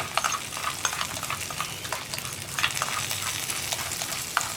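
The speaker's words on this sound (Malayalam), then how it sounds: "നമ്മുടെ മോരുകറിയിലേക്ക് നമ്മൾ റെഡിയാക്കി വെച്ചിരിക്കുന്ന വറവ് ചേർക്കുക" Prepared tempering goes into a carrot and banana buttermilk curry (moru curry) in a pan, giving a soft, continuous sizzle broken by light scraping and clinks of stirring, with no talk.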